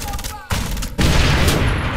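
Shotgun fire in a first-person video game, a couple of loud blasts in quick succession with a burst of noisy gunfire filling the second half.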